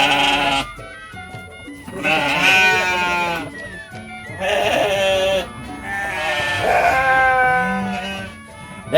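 A goat bleats loudly and repeatedly, long wavering cries close by with short pauses between them.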